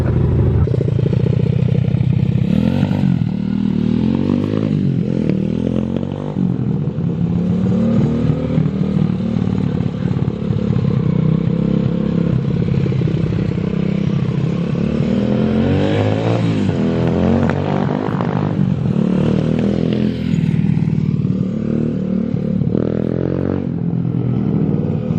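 A pit bike engine idles steadily to warm the oil, running close and loud for the whole stretch with light clattering and slight fluctuations in pitch.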